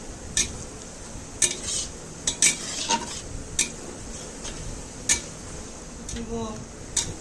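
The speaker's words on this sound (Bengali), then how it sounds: "আরও কিছুক্ষণ পেঁয়াজগুলোকে ভেজে নিতে হবে" Onions fry in oil over medium-low heat for a large batch of chicken biryani, with a steady sizzle under sharp scrapes and taps of a spoon stirring against the pan.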